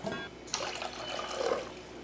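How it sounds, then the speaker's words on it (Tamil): Water is poured into a pot of simmering rasam, giving a brief splashing, running liquid sound, fairly close and alone. "புளிப்பு எப்படி இருக்குன்னு பார்த்துட்டு தண்ணி கொஞ்சம் சேர்த்தாச்சு"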